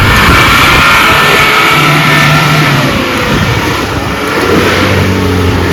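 An off-road vehicle, one of four including a 2023 Suzuki Jimny and a Mahindra Thar on the Nalumala trail, revs loudly and steadily up close, its engine roar mixed with heavy broadband rumble and wind-like noise.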